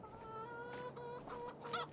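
Chickens cluck at a farm coop in Farming Simulator 25, a steady run of close, repeated clucks and calls over a low ambient hum.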